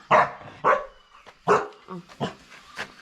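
A dog on a rural Thai farm barks loudly and close by. About six sharp barks come in uneven bursts, with short quiet gaps between them.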